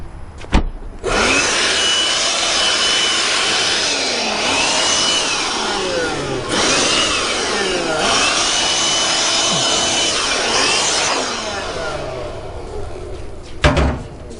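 Compressed air blasts dust off the cutout of a 2015 BMW M235 windshield frame, loud continuous hissing bursts with short pauses between them, alone and close.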